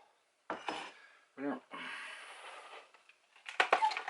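Big spoon scraping rendered fat for pemmican into a bowl, a few separate scraping and clinking strokes with short pauses between them, close and fairly quiet.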